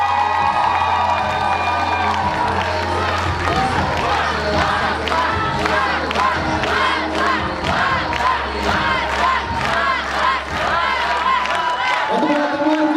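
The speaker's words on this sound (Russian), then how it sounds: "Я думаю, теперь удостоили более громких аплодисментов." A student KVN comedy contest audience cheers and applauds loudly and steadily, with crowd shouts, whoops and clapping filling a hall, close and continuous until it fades slightly at the end.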